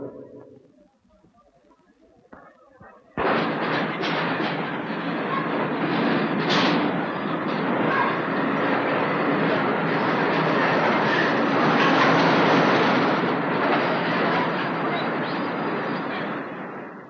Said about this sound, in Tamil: தாதர் எக்ஸ்பிரஸ் இன்னும் சிறிது நேரத்தில் 5வது பிளாட்பாரத்திற்கு வந்து சேரும்.